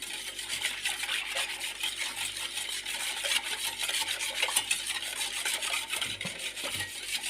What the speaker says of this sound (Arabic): كما العاده التحريك مستمر